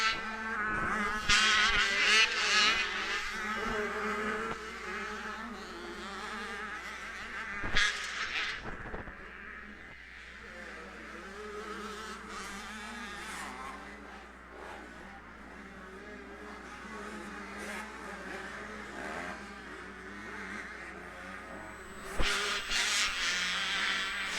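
Several 85cc motocross bikes race around a dirt track at Winchester Speedpark, their high-pitched engines buzzing and rising in waves as riders pass nearby through a rhythm section, then fading with distance.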